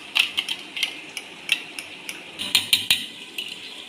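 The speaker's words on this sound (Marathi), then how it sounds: "तोपर्यंत हे दही फेटून घेते मी" Yogurt whisked by hand in a bowl for chicken korma: a quick run of light metallic clicks and taps against the bowl, close and fairly crisp, with short pauses between bursts and no talking.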